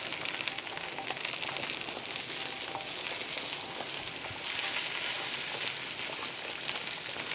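Italian flavoured sausages fry in a pan with a steady, hissing sizzle, a continuous crackling spatter at moderate volume with no talk over it.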